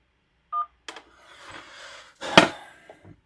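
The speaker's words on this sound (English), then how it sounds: "I am getting a phone call on the tube, so let's just do the phone call first" An incoming phone call on a live stream sets off a short electronic tone, followed by handling clatter and knocks nearby.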